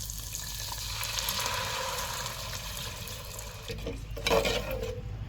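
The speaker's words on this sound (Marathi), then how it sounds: "कड्याच्या अर्काचं पाणी आता ह्यात ओतायचं" Crab stock being poured into curry masala roasted in oil, a steady low sizzle followed by a short, louder splashing pour near the end.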